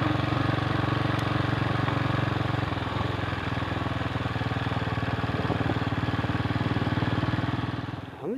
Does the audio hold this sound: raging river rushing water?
no